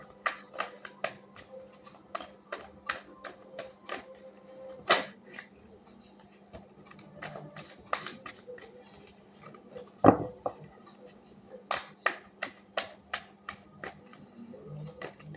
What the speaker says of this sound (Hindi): तो चलिए एक डेक से भी कुछ कार्ड निकाल लेती हूँ।